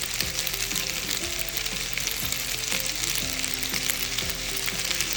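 Pasta frying in olive oil in a pan gives a steady, dense sizzle throughout, with periodic soft scraping strokes from stirring and no voices.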